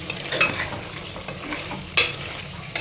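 A spoon stirs pachi karam coconut chicken curry in a sizzling pan, with soft scraping and frying hiss throughout and a couple of sharper utensil clinks against the pan near the end.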